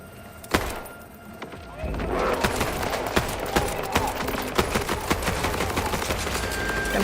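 Heavy, hard-recoiling video game gunfire, a single loud shot and then a steady stream of punchy rapid shots, with a voice talking faintly underneath.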